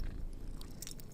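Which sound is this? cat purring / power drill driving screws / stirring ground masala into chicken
cat purring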